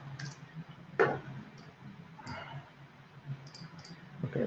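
A few soft, scattered clicks from a computer keyboard sound close and faint, with a low hum underneath and no talking.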